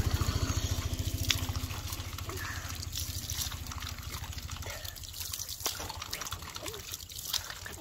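Groundwater trickles out steadily on a farm, a faint, continuous running and dripping flow with a low rhythmic pulsing early on, under light background noise.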